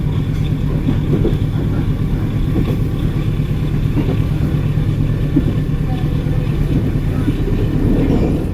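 Aboard the KA Serayu economy train, a steady low rumble of the old carriage rolling along the rails persists throughout, with faint knocks and rattles and a voice speaking intermittently over it.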